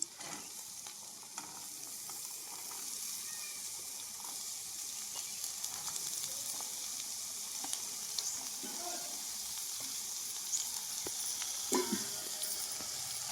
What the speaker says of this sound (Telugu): దొండకాయలు అయితే శుభ్రంగా కడుక్కొని చిన్న చిన్న ముక్కల కింద కోసుకొని పెట్టుకున్నాను ఇప్పుడు ఇవి కూడా వేసుకుంటున్నాను